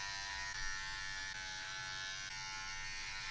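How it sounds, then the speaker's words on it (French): Electric hair clipper buzzing steadily while trimming and thinning a beard, a close, continuous motor whine with a brief change in pitch near the start, no talking. "je prends la tondeuse pour désépaissir tous les poils pour égaliser un peu"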